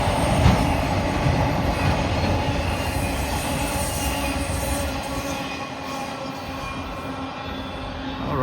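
Freight train X141 with 222 axles rolling past at close range, a loud, continuous rumble with clattering wheels and high metallic squeals, no talking.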